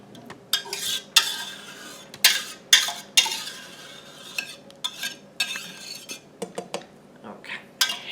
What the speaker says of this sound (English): Let's stir the potato chowder.